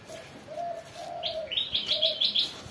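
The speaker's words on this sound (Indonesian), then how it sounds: "Siang hari ini kita akan memandikan burung jalak kebo kita" Javan myna (jalak kebo), a male raised from young, gives a run of short, bright, repeated chirping calls over a softer low whistle, close and clear during a midday bath.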